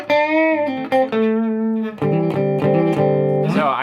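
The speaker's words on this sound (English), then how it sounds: "You can hear a little bit of a breakup the way I have it set right now." Electric guitar played through a pedal on a compact mini pedalboard, set for slight overdrive breakup, ringing out sustained chords and notes with a warm, gently gritty edge, loud and close with no talking.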